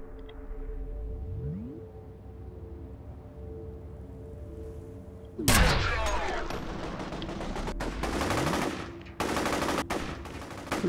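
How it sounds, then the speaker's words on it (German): Gunfire in the video game F.E.A.R., where a loud burst erupts midway and is followed by dense rattling shots, with a steady mechanical hum and low rumble beneath the whole stretch. "du ballerst gegen die Wand"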